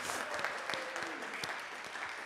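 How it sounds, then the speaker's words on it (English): Steady clapping from an audience, dense and even across the whole stretch with a few sharper claps standing out. "So a round of applause for all of our panellists."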